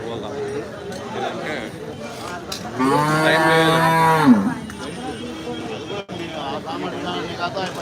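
A cow at a rural Sunday livestock market lets out one loud, close, drawn-out moo over a background of people chattering and talking nearby.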